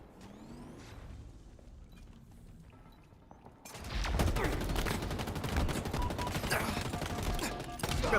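Gunfire in Halo Infinite multiplayer: quieter mechanical clicks and distant shots at first, then a sudden, dense, loud burst of rapid weapon fire that continues to the end.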